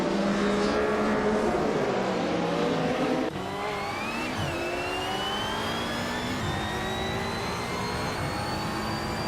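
Race car engines roaring in a racing video game, including a 1997 Panoz Esperante GR1, a loud sustained whine with rising pitch sweeps as cars accelerate and shift, one car passing close, no talk.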